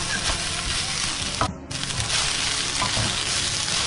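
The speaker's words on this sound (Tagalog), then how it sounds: "Hahaluin ng mabuti, natural, para maghalo silang lahat." Crab meat fried rice sizzles steadily in a hot frying pan while being stirred, a loud continuous frying hiss with scraping stirs and one brief break in the sound.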